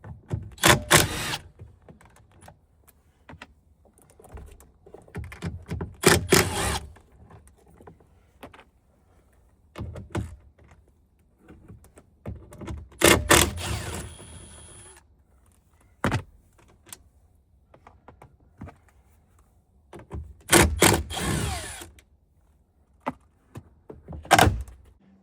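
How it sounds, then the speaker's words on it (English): Bolts holding a Ford F150 mirror are worked loose with a tool, giving clustered bursts of ratcheting and clicking separated by quiet gaps, close and fairly loud. "But these are 10 millimeter. So we're simply just going to unscrew them."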